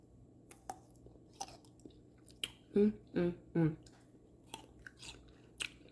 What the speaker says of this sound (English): this is how I want them to sound when I eat them